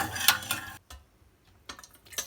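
A yogurt and milk mixture stirred in a bowl, quick close scraping and clinking strokes in short bursts separated by brief pauses, fairly quiet and with no one talking.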